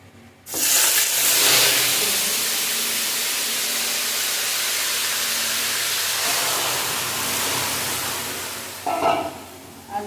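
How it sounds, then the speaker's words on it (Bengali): Curry of live koi fish with bottle gourd greens poured into hot oil tempered with white cumin and panch phoron, setting off a loud, steady broadband sizzle that holds for several seconds before easing slightly near the end. "ফোড়নটা ভাজা হয়ে গেছে আমি তরকারিটা ঢেলে দেবো"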